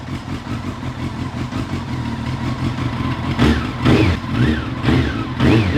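A Honda CBR954RR sport motorcycle with a deep, throaty retro Micron aftermarket exhaust idles with a lumpy, pulsing burble, then gets several quick blips of the throttle.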